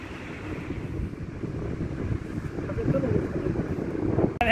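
Strong wind buffets a microphone outdoors, a loud, continuous rumbling roar that swells and gusts, ending with a brief sharp knock.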